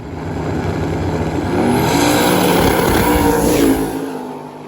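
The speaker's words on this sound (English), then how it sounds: "That was a good wheelie from Glenn. Hopefully didn't slow him down too much" A drag race car launches down the strip at a street-legal drag racing event, a loud, roaring engine surging and building, then easing off over a few seconds with no talk.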